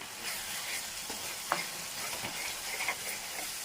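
Soft sizzling and stirring of a dried fish masala curry with turmeric cooking down in a pan, a steady low hiss with a few scraping stir strokes and a brief clink.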